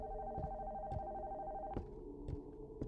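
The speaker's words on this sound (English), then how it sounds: "Why is the phone ringing?" A telephone rings upstairs in a dark house, a steady electronic tone with sharp knocks and thumps breaking in now and then, nobody talking.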